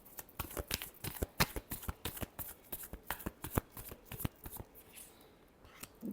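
Tarot cards being shuffled by hand, a rapid run of crisp papery riffles and slaps in uneven bursts, close and fairly quiet with no talking.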